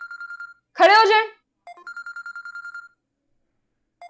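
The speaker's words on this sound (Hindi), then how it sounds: "ये फोन किसका बज रहा है?" A mobile phone rings in a classroom with a steady, repeating electronic beeping tone, clear and close, broken by a voice speaking sharply in the middle.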